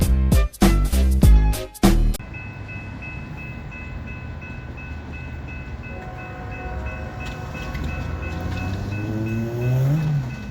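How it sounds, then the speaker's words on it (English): A Norfolk Southern freight train, NS21G, led by Norfolk and Western heritage locomotive 8103 passing through Homestead, Pennsylvania: several loud horn blasts open, then a steady rumble of the engine and rolling cars that rises as it nears, with screeching wheel squeal. "This is NS21G with the Norfolk and Western Heritage Unit."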